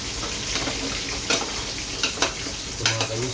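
Pork ribs nilaga being stirred in a pot over a tripod stove, with a steady bubbling sizzle and several sharp scraping clinks of the utensil against the pot, close and fairly loud.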